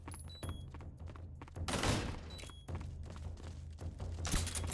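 Gunfire in the stealth video game Metal Gear Solid 3: Snake Eater, with several suppressed shots and thuds against steady game ambience, one louder burst near the middle, no talking.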